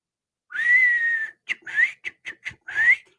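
A whistle sounds like a referee's whistle: one long blast, then a rapid run of short chirps and a final rising toot, loud and alone against silence.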